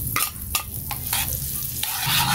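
Garlic fries with dairy cream in a hot pan, giving a steady sizzle broken by several sharp scraping stirs of a utensil, close and fairly loud.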